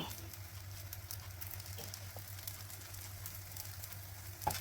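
A layered paratha fries on a hot pan with a soft, steady sizzle and low hum, fairly quiet and close, with a few small clicks and one sharper tap near the end.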